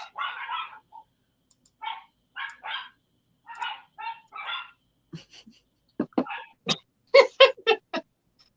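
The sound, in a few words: dogs barking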